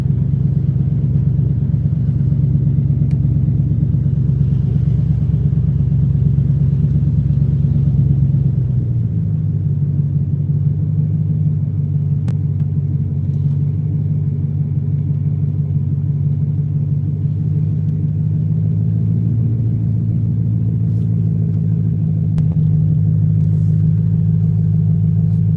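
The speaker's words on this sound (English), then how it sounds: "We're driving through the community." A car drives through a Detroit neighborhood with a steady, loud low engine and road rumble from inside the cabin. The engine note dips once, and the drone stays unbroken with no talk.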